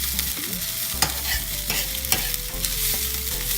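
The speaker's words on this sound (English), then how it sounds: "I've been cooking these onions for about 7 minutes now, and it's almost getting there." Onions brown in a pan, giving a steady close-up sizzle with periodic scraping strokes as they are stirred, and a faint background tone runs underneath.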